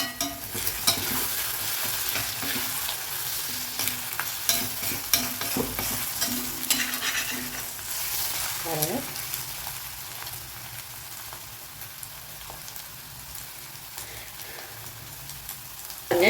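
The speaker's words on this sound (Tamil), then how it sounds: "இந்த மாதிரி வதக்கோங்க இது ஒரு ரெண்டு நிமிஷம் நல்லா வதங்கட்டும்" Food sizzles in oil in a pan while being stirred for egg rice, a steady close crackle with scraping utensil strokes throughout.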